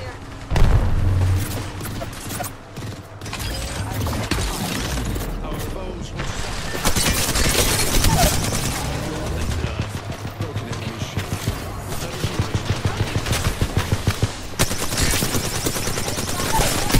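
Sustained automatic gunfire and booms in the Apex Legends video game, loud and dense rapid bursts running nearly throughout, with faint game voice lines underneath.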